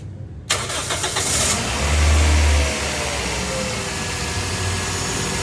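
A first-generation Toyota Vios, freshly overhauled, cranks and fires up in a workshop, the engine catching after a brief start, revving up, then settling into a steady idle.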